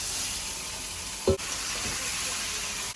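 Chicken pieces going into hot oil fried with green chilli, chilli powder and cumin powder, giving a steady close sizzle with one sharp clatter as they drop in, then continuous frying hiss.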